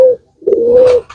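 A pigeon coos close and loud, with a short tone, a pause, then a longer drawn-out coo, alone with no talk.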